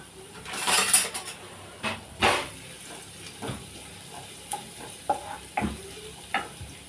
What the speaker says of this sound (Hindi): इसी में अब हम डालेंगे चॉप्ड गार्लिक, एक 1 टेबलस्पून जितना, और इसे हमें ब्राउन नहीं करना है।